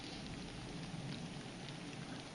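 Rain falls through the woods in a constant, dense hiss of drops striking leaves and ground, close by and uniform, with no voices.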